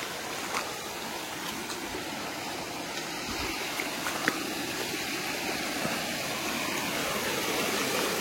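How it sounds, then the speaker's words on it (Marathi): A village stream babbles steadily at low level, a continuous soft gurgling wash of water with a few faint clicks, no voices. "पाण्याचा आवाज खळखळ ऐकू येत असेल तुम्हाला."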